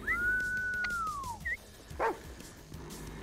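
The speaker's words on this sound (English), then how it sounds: "Dog is stuck in a box." A dog trapped in a box in a video game whimpers and yips, with one long high drawn-out whine followed by a few short yelps, faint over a low game background.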